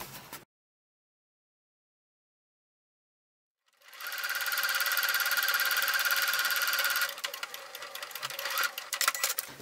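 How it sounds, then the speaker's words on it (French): After a brief stretch of silence, a sewing machine starts sewing a quilted fabric hanging basket, a fast loud whirring run that eases into a rougher, uneven rhythm near the end. "C'est parti pour la couture."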